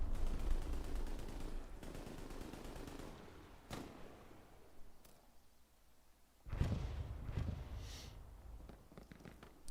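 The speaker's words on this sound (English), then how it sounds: "get an MG all the way up in here on this side" Machine gun fire from a multiplayer shooter game match, rapid rattling bursts at moderate distance mixed with scattered sharper shots and a booming impact, fairly faint overall.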